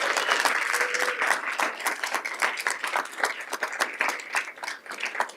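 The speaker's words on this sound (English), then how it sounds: "Round of applause for this team." Sustained, dense applause from an audience at a school board meeting, honoring a state champion 5A flag football team; steady, close clapping fills the whole stretch with no talk over it.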